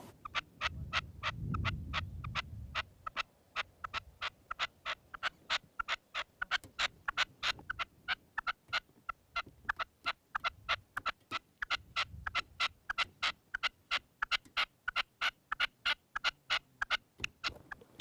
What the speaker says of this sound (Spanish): El pájaro ha empezado, pues como siempre, con jácaras, cantos de mayor, reclamo y buscando campo